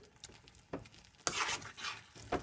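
Cucumber and garlic sauté gently in a pan over a low flame, with soft sizzling and intermittent scraping strokes of a spoon.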